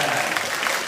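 Audience applause at a Dragon Gate pro wrestling show in Kobe's Sanbo Hall, cheering a wrestler's birthday: a dense, steady wash of clapping that fills the short moment without a break.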